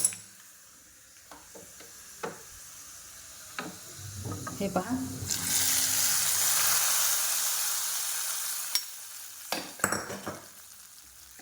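Hot oil tempering with browned garlic hits a vegetable of dried chickpea leaves, bursting into a loud, sustained sizzle for several seconds amid spoon clinks and stirring scrapes, with a brief voice at the start.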